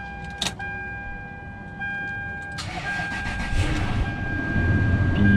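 A 2004 Toyota Sequoia that had been sitting a while is cranked and starts, with a click and chime tones, a short whirring crank, then the engine catching and settling into a building idle nearby.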